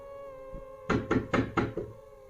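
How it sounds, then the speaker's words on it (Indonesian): Four firm knocks in quick succession strike a front door of a house at night, close and clear with nothing else around them. "terdengar dari depan rumah ketukan pada pintu, serta ucapan salam"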